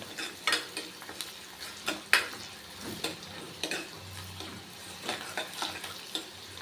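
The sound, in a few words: green chillies sautéing in a pan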